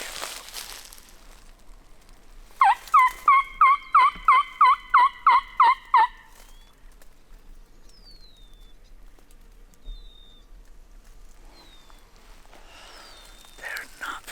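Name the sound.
wild turkey gobbling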